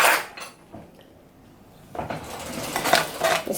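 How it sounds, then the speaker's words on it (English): A spoon scrapes and clinks against a bowl while mashing and crushing fruit for a cocktail, a short burst of clatter, then a brief pause before a busier stretch of close scraping and knocking. "You can also get a spoon and mash it and crush it up."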